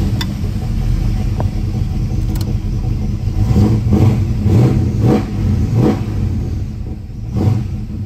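A 1971 Plymouth Cuda engine idles with a steady low rumble, close and loud, swelling in several short revs through the middle before settling back.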